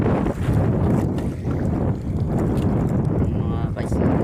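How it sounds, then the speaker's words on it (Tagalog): Strong wind buffets the microphone in a constant low roar on a boat off Lubang Island, with water and boat noise mixed in and a voice speaking faintly beneath it. "Ang lakas ng hangin."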